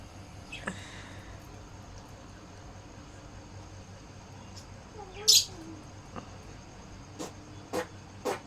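Caged birds chirping and screeching in short sharp bursts while being taken out of their cage, with a loud shrill cry in the middle and scattered calls over a low indoor hum.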